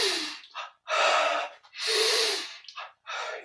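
Deep audible breaths during a yoga breathing exercise, several long forceful airy inhales and exhales in a slow rhythm, close and fairly loud.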